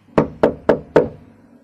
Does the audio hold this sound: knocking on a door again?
yes